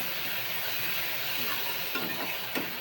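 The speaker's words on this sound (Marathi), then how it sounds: "कांदा चांगला भाजत आलाय" Chopped onion sizzles as it roasts in a pan for kanda pohe, a steady close hiss of frying with faint stirring scrapes near the end.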